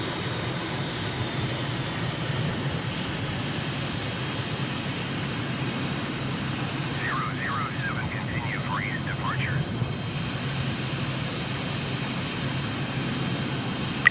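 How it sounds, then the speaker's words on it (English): An aircraft in Microsoft Flight Simulator takes off from N'Djamena, Chad, and climbs out with gear and flaps up, its engine a steady, continuous drone throughout. "Gear up, flaps up, and we're taking off to the northeast."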